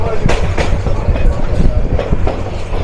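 Parabat Express rolls across the Bhairab rail bridge over the Meghna river, a loud steady rumble with rhythmic clickety-clack of wheels over rail joints, heard close from on board.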